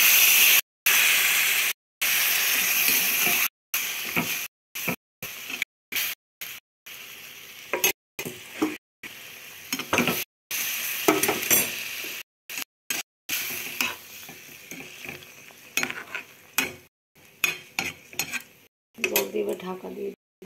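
Water poured into egg curry masala in a pan, with loud hissing sizzle and steam, then simmering bubbles and clinks of a utensil against the pan, broken up by abrupt cuts.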